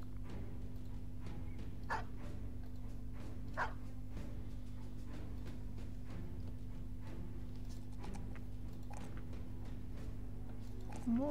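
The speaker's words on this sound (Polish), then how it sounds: "O, i są te większe psy." Big dogs in the video game Battle Brothers let out a few scattered barks and yelps over a steady droning game hum, fairly faint and spaced seconds apart.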